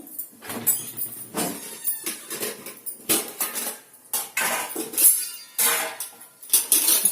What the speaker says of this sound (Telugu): నూనె వేడెక్కిందండి ఇప్పుడు దీంట్లోకి కొంచెం ఆవాలు వేసుకుందాము